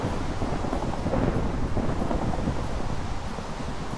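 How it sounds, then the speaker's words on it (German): Thunder rolls from a nearby lightning strike in the survival video game Die Insel 2: a sustained, heavy, noisy rumble mixed with wind and rain, loud and continuous throughout. "Der ist ja wahrscheinlich irgendwo in der Nähe eingeschlagen, der Blitz."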